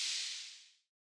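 A white noise hi-hat layer from a Logic Pro sound library with reverb added, a single bright hiss that starts at full level and fades smoothly into silence within a second.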